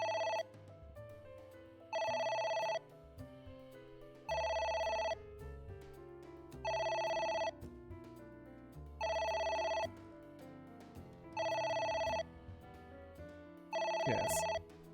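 An in-game telephone rings in the video game AI: The Somnium Files, sounding as six or seven evenly spaced bursts of a bright electronic trill with short pauses between, loud and clear over faint background music.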